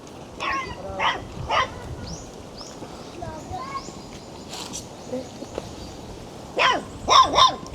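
Puppies give scattered short yips and barks, with a louder cluster of sharp yelps near the end, while people talk quietly in the background.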